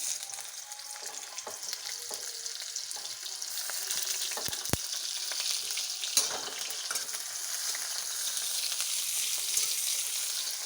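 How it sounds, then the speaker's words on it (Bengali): Onions sizzle in hot oil in a home kitchen, a steady close frying hiss with occasional scrapes and clinks of stirring, fairly quiet and continuous with no speech. "তেল গরম হয়ে গেল, এখন দেখুন পেঁয়াজগুলো তুলে দিচ্ছি।"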